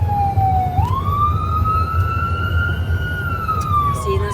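Ambulance siren wailing loudly and close, a steady rising and falling electronic tone that holds for several seconds over low road rumble from the moving vehicle.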